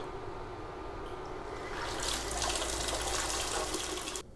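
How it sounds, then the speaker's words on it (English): A homebrew mash pump starts up by voice command and circulates water, a steady rushing and splashing flow that grows fuller after a couple of seconds and continues close. "Echo, turn on, mash, pump."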